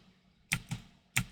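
Computer keyboard keys pressed for a Ctrl+Z undo in Inventor sketch software: three crisp, close clicks, the first two in quick succession and a third a half-second later, against a quiet room.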